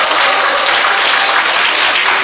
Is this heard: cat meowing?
no